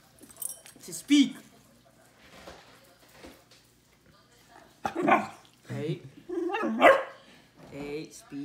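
A young beagle or husky barks on command, a few sharp barks scattered between a person's spoken prompts and praise. Keys jangle faintly in the background.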